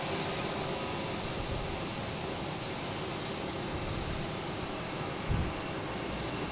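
A JetBlue airliner arriving at Boston Logan from Pittsburgh gives a steady, moderately distant engine roar that holds evenly throughout, with a brief low thump near the end and no talking.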